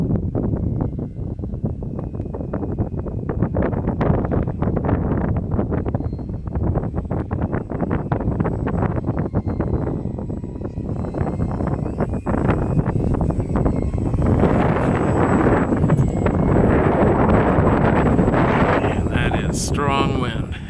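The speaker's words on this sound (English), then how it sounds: "Strong wind." Strong wind roars and buffets a nearby microphone outdoors during the maiden flight of a PZ Sport Cub model plane, a loud, continuous rushing that swells and eases throughout.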